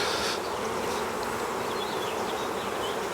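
Honey bees buzzing at an open hive during a nucleus colony inspection. The hum is dense and steady, close and fairly loud, with no voices.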